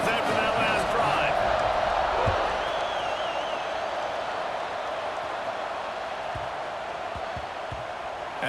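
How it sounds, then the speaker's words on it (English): A college football stadium crowd at Florida versus Florida State keeps up a broad, sustained roar after a touchdown drive, with a louder swell at the start. A commentator talks over the crowd throughout. "this crowd is feeling themselves after that last drive"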